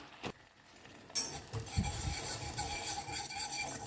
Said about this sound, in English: Mix it well so that there are no lumps in it.